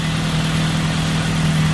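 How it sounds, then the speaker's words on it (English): A car engine idles steadily with a low, even hum and slight vibration, close by and unchanging throughout, after an oil filter install with oil spilled on it. "Engine sounds okay."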